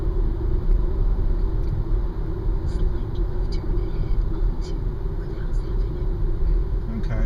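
2012 Nissan Leaf electric car driving on a road, heard as a constant low rumble of road and tire noise from inside the cabin with no engine note.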